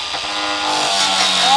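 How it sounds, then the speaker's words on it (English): An angle grinder starts up and cuts into laminate flooring during door frame work, a loud, steady whine building over a second and a half with a broadband rasp. "going to go first with the angle grinder"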